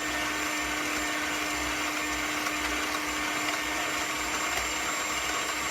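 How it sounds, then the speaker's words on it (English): Aquafaba, the liquid from a tin of chickpeas, being beaten with an electric whisk for chocolate mousse, giving a steady, loud motor whine that runs unbroken from start to finish with no talking. "So you whisk it and whisk it. That's starting to turn like egg whites."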